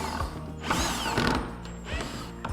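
A power drill drives 2.5-inch pocket hole screws into wood for a cane bed frame, giving short ratcheting, whirring bursts up close with rising and falling motor pitch.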